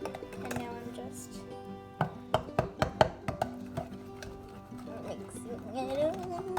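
Banana bread batter with light brown sugar being stirred in a bowl, with a cluster of sharp utensil clacks against the bowl midway, then softer scraping; close and fairly quiet.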